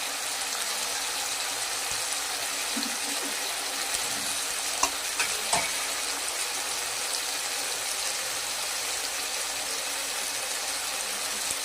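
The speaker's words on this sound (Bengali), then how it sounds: "মশলাটা আমার হয়ে গেছে, আমি এবার ডালটা ঢেলে দিলাম।" Dal poured into a pan of frying spices, a continuous close sizzle and hiss with faint stirring clinks, no voices.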